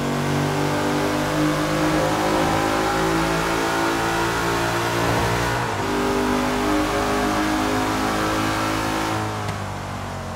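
A Porsche Panamera Turbo in Forza Horizon 3 revs hard through a tunnel, a loud, sustained engine roar with rising and shifting harmonic tones that barely drops for ten seconds, with no talking.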